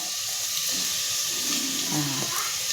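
Water poured from a glass into a pot of rice for jeera rice, a steady close splashing rush that runs for nearly three seconds with a faint bubbling pour near the end.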